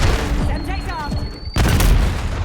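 A Semtex grenade detonates in a multiplayer shooter match, a loud sudden blast cutting in after a stretch of gunfire and game noise, with rumbling aftermath.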